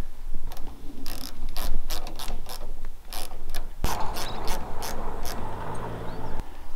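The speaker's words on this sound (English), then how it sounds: "So we'll just tighten these up." Ratchet clamps being cranked tight on a fence post in a gully flood fence, a quick series of sharp metallic clicks in bursts, close and fairly loud against outdoor background noise.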